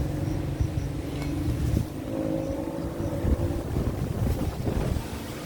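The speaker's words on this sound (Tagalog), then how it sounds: "Lakas ng hangin." Steady rushing wind buffets the microphone, with low rumbling gusts continuing throughout and no voices.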